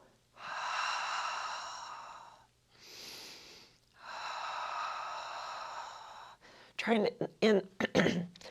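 Long, drawn-out breaths during an ab-focused Pilates exercise, two sustained exhale-like swells of several seconds each with a softer breath between, followed by short choppy bursts of voice near the end.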